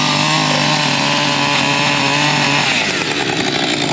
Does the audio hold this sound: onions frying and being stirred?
no